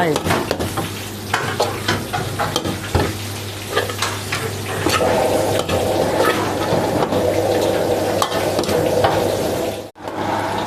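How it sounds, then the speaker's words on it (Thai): Wide rice noodles with pork and soy sauce stir-fried in a hot pan: a loud, steady sizzle with repeated scraping and tossing strokes close by, and no talk. "ซีอิ๊วขาวครับผม ซีอิ๊วดำนิดนึง ผัดต่อครับ"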